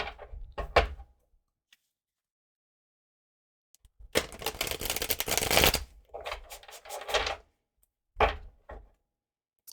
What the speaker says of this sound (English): I'm almost done shuffling.